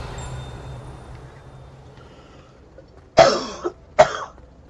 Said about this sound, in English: Gosh, this cough won't go away.